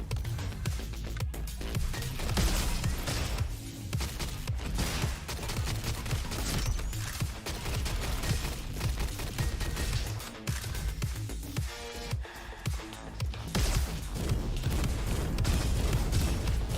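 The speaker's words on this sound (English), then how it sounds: "We're Iron Man. We have wrist rockets." In the robot shooter Roboquest, wrist rockets fire in a rapid, relentless barrage of blasts and explosive booms. Loud, dense impacts pile up one after another for the whole stretch.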